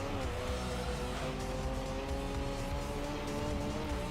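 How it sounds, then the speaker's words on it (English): A race car engine in the video game Gran Turismo 3 drones loudly and steadily, its layered harmonics holding nearly constant pitch throughout, with faint tire squeal mixed in and no talking. "I really appreciate it when racing games actually get decent car sounds"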